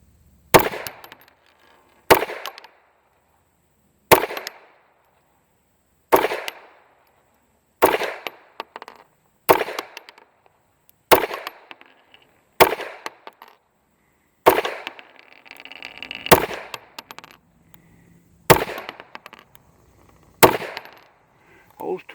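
About fourteen gunshots from a used S&W M&P 22 pistol, sharp loud cracks spaced roughly one to two seconds apart, each with a brief echoing tail, and faint background noise between shots.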